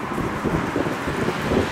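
Cold wind blowing hard across the microphone during a first ride on a 2021 Yamaha XMAX 300 scooter, a loud, continuous rumbling buffet with gusty swells and no voices.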